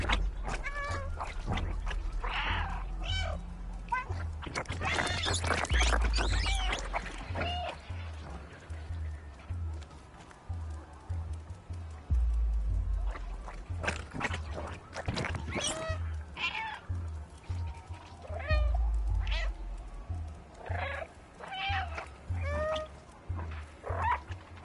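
An orange stray cat meows repeatedly, loud and close, with drawn-out wavering cries spaced in irregular bursts, over low rumbling background noise.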